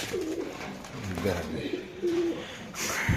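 Pigeons coo in their cages at a pigeon farm, giving soft, low, repeated warbling calls close by under a voice talking.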